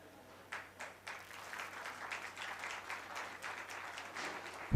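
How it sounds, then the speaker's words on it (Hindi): Audience applause at a theatre play, faint and fairly distant, with clapping swelling after a moment and continuing steadily before a sharp knock at the end. "तालियां बजती रहनी चाहिए दोस्तों"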